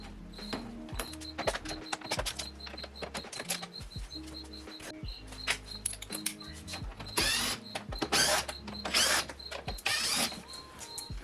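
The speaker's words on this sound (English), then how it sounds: "So the first thing we do is grab a T30. You're going to break these loose." A T30 Torx bit works bolts loose on the front bumper of a BMW E90, giving close, repeated ratcheting clicks and mechanical creaks in irregular bursts, with some louder scraping toward the end.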